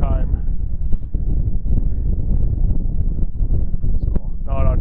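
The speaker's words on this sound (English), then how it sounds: "The wind's kind of blowing us half sideways" Wind buffets a boat trolling sideways on Lake Erie, a steady close rumble of gusts against the microphone running throughout, with someone talking over it at the start and end.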